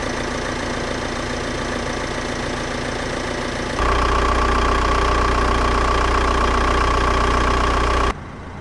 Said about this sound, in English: Behold, a 137 horsepower turbo diesel engine.